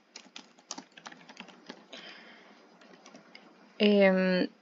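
A computer keyboard clicks out a name in quick, uneven keystrokes, then pauses before a short, sustained electronic tone sounds near the end.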